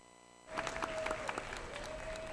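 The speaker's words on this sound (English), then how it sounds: "go ahead and give them a round of applause" Applause from the crowd at a junior livestock show breaks out suddenly after a brief quiet moment and carries on steadily and fairly faint, with a faint tone running underneath.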